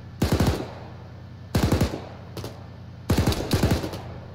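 Three bursts of rapid automatic rifle fire from the Arma 3 video game, each a close, loud volley of several shots separated by brief pauses, with a single lone shot between the second and third volleys.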